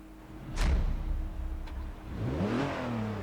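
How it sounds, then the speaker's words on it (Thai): An old Ferrari Dino in Forza Horizon 3 cranks and catches, then its engine idles and revs upward in a rising sweep, close and moderately loud with no talking. "แต่ลองสตาร์ทเครื่องกันดีกว่า"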